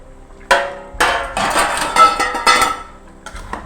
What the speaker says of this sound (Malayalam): ഇനി ഒന്ന് ഇളക്കി കൊടുക്കട്ടെ.